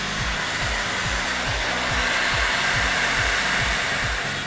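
A hair dryer fitted with a narrow nozzle blows steadily while drying hair, a loud continuous whooshing roar with a rhythmic low fluttering pulse underneath, close and uninterrupted.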